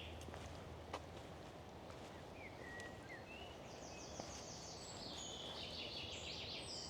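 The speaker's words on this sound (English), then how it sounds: "I could stand for hours and listen to these birds." Birds sing faintly in the English countryside, with scattered chirps and then a brighter run of song rising toward the end over a low, quiet outdoor hush.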